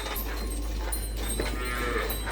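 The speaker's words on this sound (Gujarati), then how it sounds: "કાંકરેજ ગાય ને એનો વાછરડો" A Kankrej cow lows faintly in the background over a steady low hum, with no one speaking.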